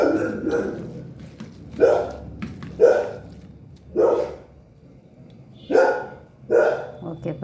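A puppy waiting to be fed barks about six times in short, sharp bursts, close by and irregularly spaced, with quiet household background between barks.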